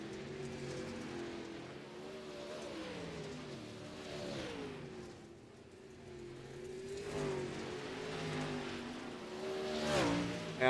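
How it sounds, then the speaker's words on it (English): Race cars circle a dirt racetrack, their engines droning and rising and falling in pitch as they pass, a steady mid-distance roar of several cars with no talking. "Get some static shots of the cars rolling around the racetrack."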